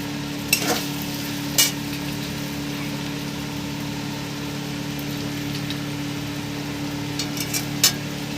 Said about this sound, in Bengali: দেখুন আমি ভেজে রাখা পনিরটা দিয়ে দিচ্ছি মাখনের উপরে।